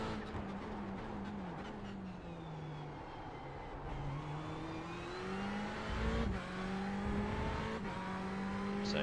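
A Ferrari 488 GTE race car at Spa roars at high revs, its engine note rising and dipping through gear changes as it drives a continuous, loud onboard lap.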